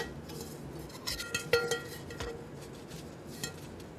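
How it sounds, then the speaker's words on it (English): A paint sponge is rinsed in a container of water during rust-effect painting on galvanized tin, giving a few soft splashes and sharp clinks against the container in the middle, then a quiet background. "Let me rinse my sponge."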